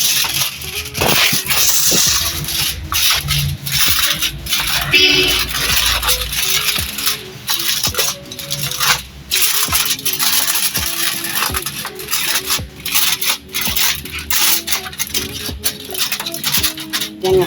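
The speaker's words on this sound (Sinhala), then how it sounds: "මේක උඩින් මෙහෙම ෆොයිල් එකක් දාලා අපි වහගමු." Aluminium foil is spread over a tray of watalappam, a Sri Lankan coconut custard, before baking. The foil crinkles and scrapes up close, loud and irregular, and no one speaks.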